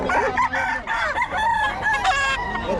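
A Boston Sweater gamefowl rooster crows loud and close, one drawn-out cock-a-doodle-doo with clucking around it and no talk.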